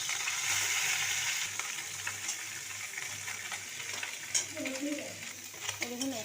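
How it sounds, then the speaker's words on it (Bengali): Small puti fish sizzle in hot oil in a pan as they are turned, a steady frying hiss with occasional scraping and stirring sounds near the end. "এইভাবে আবারও সব মাছটাকে ভেজে নেব।"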